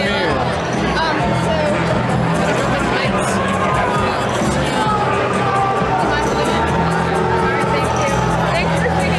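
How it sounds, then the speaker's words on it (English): An indoor crowd at an election watch party keeps up a loud, continuous murmur of voices and jeers, with people talking nearby throughout. "Boo, they're booing Donald Trump."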